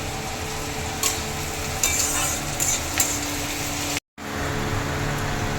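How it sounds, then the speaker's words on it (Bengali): Chopped onions frying in a pan for a Punjabi-style black chickpea curry, a continuous dense sizzle with a few sharper stirring clicks and a brief cut to silence. "পেঁয়াজ কুচি দিয়ে দেবো।"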